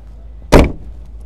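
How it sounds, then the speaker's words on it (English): A single solid thump as a car door swings shut, loud and close, with near silence before and after. "let me close the door"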